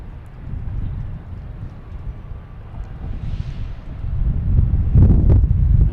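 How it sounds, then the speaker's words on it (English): Strong gusty wind buffeting the microphone at Boston Logan Airport, a loud low rumbling roar that swells and surges toward the end, with faint distant background noise beneath. "we got a ton of wind here blowing me around"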